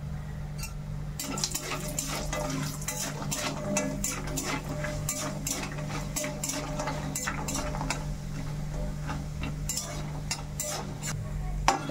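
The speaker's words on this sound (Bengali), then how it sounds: "এই যে কুমড়ো বড়িগুলো এবার ভেজে নেব। তেলটা খুব সুন্দর গরম হয়ে গেছে।" Steady oil sizzling as sun-dried pumpkin lentil dumplings fry in a pan, with frequent scrapes and clinks of a stirring utensil, continuous and moderately loud throughout.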